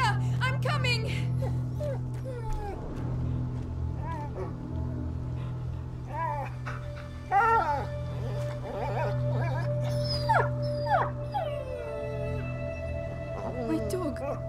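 A dog whimpers and lets out short howling cries in the video game A Plague Tale: Innocence, its yelps rising over a steady low drone, with game dialogue voices around it.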